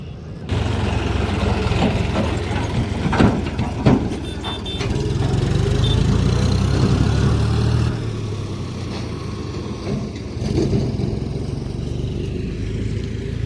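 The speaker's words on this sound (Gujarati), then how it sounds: "આ 2-3 ટ્રેક્ટર આવી ગયા છે" Two or three tractors arrive and unload in a village, their engines rumbling steadily nearby. The rumble swells and eases over time, with brief clanks and knocks partway through.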